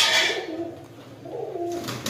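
Pigeons coo close by outdoors in two clear, low, throaty phrases over a soft, steady background hiss, with no talking.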